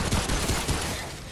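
Rapid burst of gunfire in Remnant: From the Ashes during a boss fight against minions, dense and loud across the whole short stretch with several closely packed shots.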